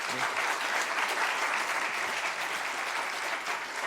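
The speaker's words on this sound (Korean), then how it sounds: "뜨거운 격려 박수 한번 할까요?" A church congregation claps for the children, a steady, even round of applause filling the room without pause.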